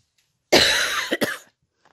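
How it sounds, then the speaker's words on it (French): A woman gives one harsh, close cough followed by a shorter second burst, then silence. "Je suis désolée si je tousse."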